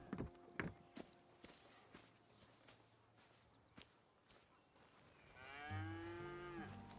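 Cattle on a farm in the video game Red Dead Redemption 2: soft hoof clops and footsteps, followed by one long, loud, drawn-out moo near the end.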